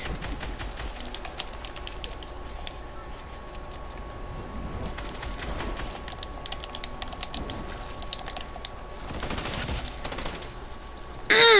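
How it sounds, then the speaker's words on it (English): Rapid, clattering SMG gunfire from the Fortnite battle royale game, dense bursts of shots running almost continuously at moderate loudness, with a sharp jump in level at the very end. "I just got killed with their worst SMG."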